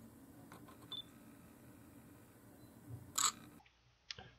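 A Nikon Coolpix P610 camera takes a photo, giving one short, bright mechanical shutter click close up against a quiet room, followed by a fainter small click a moment later.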